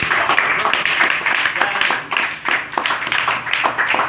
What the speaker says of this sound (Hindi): सिस्टर के लिए एक बार जोरदार ताली।